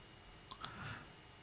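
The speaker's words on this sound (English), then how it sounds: "what will happen is I'll click save" A single quiet computer mouse click while saving a file in Photoshop, a brief double tick close up against near silence.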